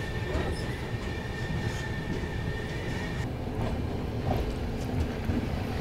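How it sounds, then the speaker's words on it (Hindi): Train 19813 rolls into Kanakpura station near Jaipur with a steady rumble of wheels on rails, a sustained high squeal that cuts off, and rhythmic clatter nearby. "फिलहाल मैं आपको दिखाता हूँ इस ट्रेन का कनकपुरा पे अराइवल।"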